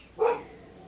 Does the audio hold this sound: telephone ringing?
no